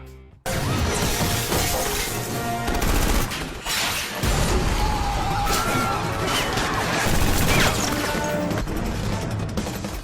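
Gunfire in an action scene from The A-Team film: a dense, loud barrage of shots mixed with shattering and crashing impacts over a busy soundtrack for the full length.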